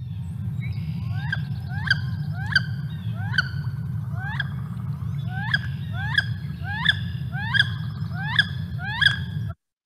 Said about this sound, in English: So that's definitely a wood duck there.